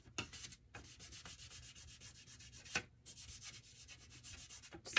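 Fingers rub Mod Podge over paper pieces on a Dollar Tree star craft, giving a steady, close, dry brushing-scrubbing texture in repeated strokes with a few brief pauses.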